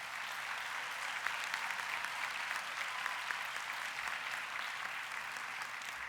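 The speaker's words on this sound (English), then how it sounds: "please give a round of applause to our great wait staff here" Steady, even applause fills a convention banquet hall as diners clap for the wait staff, a continuous rustling wash of many hands, fairly faint and distant, lasting several seconds.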